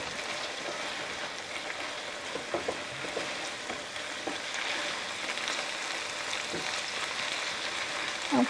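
Onions sizzle steadily in a hot pan on a home stove, a close, continuous frying hiss with occasional soft pops and light stirring scrapes.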